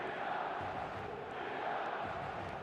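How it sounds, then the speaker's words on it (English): A stadium crowd in an eFootball match roars and chants as a steady, dense wall of sound throughout, with no single standout burst. "The crowd are calling for this to be put to bed."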